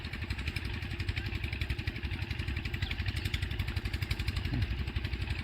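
A tractor engine idles nearby with a steady, pulsing low chug, throbbing in a regular rhythm at a moderate level with no talking over it.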